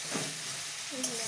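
Onions fry in a pan over high-to-medium gas heat with a steady, close hiss of sizzling oil, with a faint stir partway through, all within a second or so.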